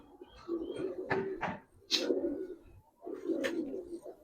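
Giribaz pigeons of an old line coo in repeated low bursts, three or four rounded phrases spaced through the moment, close and clear with brief sharper flutters between.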